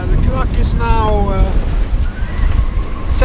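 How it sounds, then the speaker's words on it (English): Strong wind buffets the microphone aboard a sailboat crossing the North Sea in winter, with heavy waves rushing and splashing around the hull as a voice talks over the roar. "And I guess the waves are pretty heavy."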